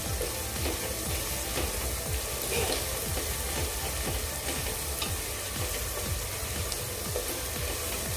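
Spices for soya chunks biryani fry over a medium gas flame, a dense steady sizzle with rapid crackling pops and scraping stirs, close and continuous, with no voices.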